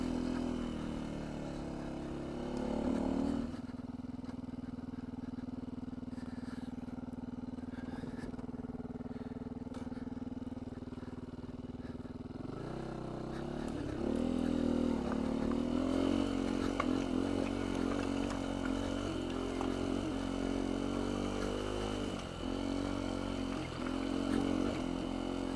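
Beta 125 RR-S two-stroke dirt bike engine droning steadily under load on slick Tennessee trail, a sustained tone that swells as the throttle rolls on past the midpoint, close and continuous with no talk.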